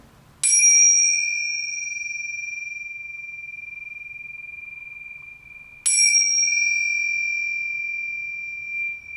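Tibetan tingsha cymbals struck together twice, each a bright, piercing metallic ring that sustains and slowly fades, with about five seconds between strikes in a quiet room.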